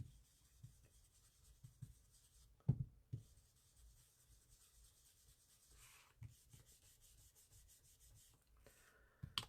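A marker or pencil rubs and scratches softly across black and white patterned paper in short, irregular strokes with a few light taps, faint and close with no talking.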